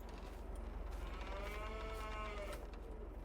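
Cows moo inside a barn in the Farming Simulator 22 video game, a drawn-out bellow over a low steady hum, fairly faint and with no talking.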